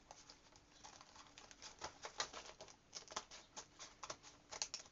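Sharpie scissors snip through paper in a run of quick, faint, irregular crisp cuts, close by and quiet with no talking.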